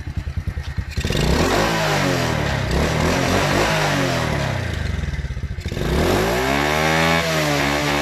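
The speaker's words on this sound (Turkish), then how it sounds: "Motor şu şekilde çalışıyor. Çalışması bu şekilde. Egzoz sesi falan filan bu şekilde." A Falcon KMT 50s Cup moped engine runs loudly close by, with a brief idle before it is revved hard twice, the small exhaust rising and falling in pitch with each throttle blip.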